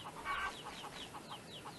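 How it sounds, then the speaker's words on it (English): Chickens cluck in the PS2 video game Chulip, short repeated clucks and chirps at a steady pace over a faint background, moderately near, with one brighter call early on. "So here's some chickens."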